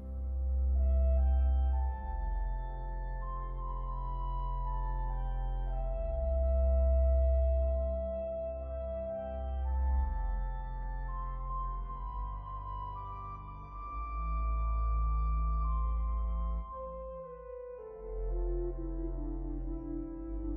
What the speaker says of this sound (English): add a flute as a solo on the first manual